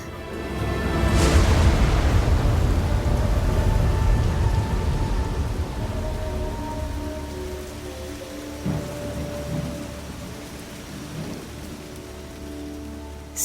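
Steady rain pours onto a forest hut by a river, a dense hiss that swells early with a low rumble of thunder and then eases slightly while continuing throughout.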